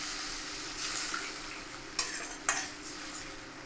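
Rui fish curry broth with added hot water simmering in a pan, a steady close bubbling sizzle throughout, with two brief light clicks partway through.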